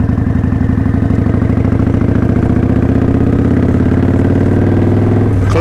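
Loud, close motorcycle engine running steadily with a throbbing mid-low rumble, holding a fairly even pitch for most of the stretch before a change near the end, with no talking over it.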